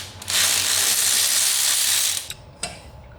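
A ratchet buzzes in one quick continuous run while loosening a 19 mm brake caliper bolt on a 1992–1999 Mercedes-Benz S-Class W140 400SE, then gives a couple of short clicks, close and loud.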